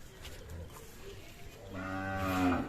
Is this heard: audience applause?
no